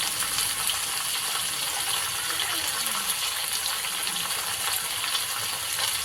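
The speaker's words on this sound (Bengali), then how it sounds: "তারপরে সবজিগুলো এর সাথে একটু লাল লাল করে ভেজে হবে" Vegetables for Bengali shukto fry in a pan with a steady, even sizzle and hiss that carries on unbroken at a moderate level.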